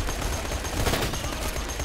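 Continuous gunfire in the co-op shooter game Borderlands 2, a dense, loud rattle of shots filling the whole moment without pause.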